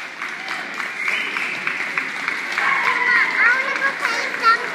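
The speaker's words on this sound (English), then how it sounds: "Can you clap?" Hands clap in a quick, regular rhythm at a working dog training class, mixed with lively children's voices and chatter that grow busier toward the end.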